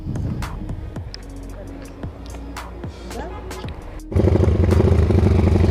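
A pushed-started motorcycle at a roadside petrol seller's stand, with scattered clatter and voices before its engine catches and settles into a loud, steady idle close by.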